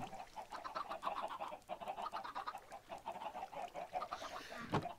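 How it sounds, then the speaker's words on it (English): Chickens on a small Minecraft chicken farm cluck in a quiet, busy run of repeated short calls, fairly soft and close, with no talk over them. "I have a little chicken farm."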